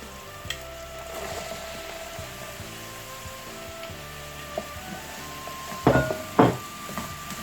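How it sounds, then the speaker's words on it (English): Chicken and vegetables stir-fry in a pan with a moderate, steady sizzle, then two louder clattering scrapes of a utensil tossing the food near the end. "So I'm going to stir fry this"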